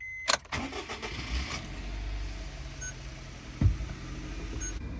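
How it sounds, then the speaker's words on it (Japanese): A kei truck engine cranks and fires, then settles into a steady idle. A sharp clunk follows partway through, and the running engine stays close and even. "一旦ちょっとエンジンをかけてみます、試しに"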